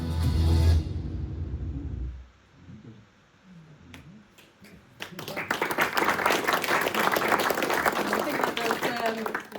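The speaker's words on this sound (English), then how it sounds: "Deserve a round of applause." Applause from the audience at a talk on lifestyle, diet and prostate cancer in Pershore breaks out midway after a quieter stretch with some voice, then stays dense and steady to the end.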